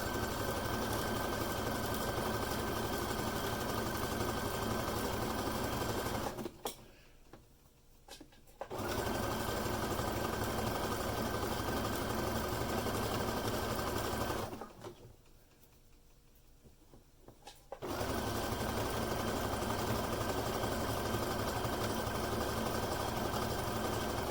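A sewing machine runs a 3-step zigzag stitch over clear elastic on briefs, a loud, steady mechanical whir in three long runs separated by two brief pauses.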